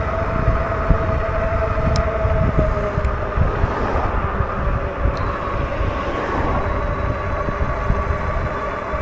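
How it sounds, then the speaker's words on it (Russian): Strong headwind roars and buffets against the microphone in a steady, loud rush while riding a Yokamura Apache electric bike, with a low droning rumble underneath. "Ветер сильный, встречный."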